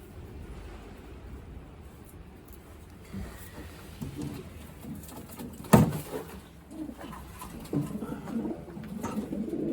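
A young racing pigeon coos softly nearby amid low background rustling, with one sharp knock partway through.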